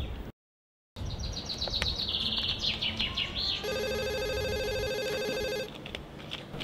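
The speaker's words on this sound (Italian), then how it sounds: "suona il telefono" A telephone rings at a switchboard, sounding a steady electronic trill for about two seconds after a few chirpy, bird-like warbling tones, clear and fairly close with no talk.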